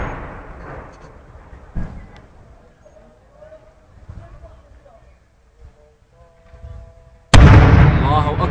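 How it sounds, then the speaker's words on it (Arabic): Heavy artillery shelling strikes the city of Al-Sanamayn, a few dull booms and bursts under shouting voices, ending in a sudden loud, close blast that roars on to the end. "قصف عنيف على مدينة الصنمين"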